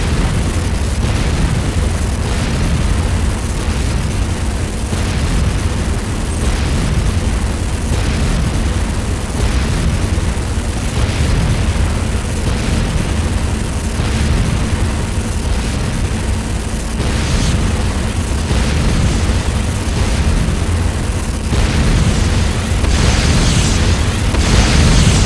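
Dense, continuous booms and explosions roll through a Command & Conquer Renegade battle as structures are destroyed, with loud bursts stacking over a constant low rumble for the whole stretch.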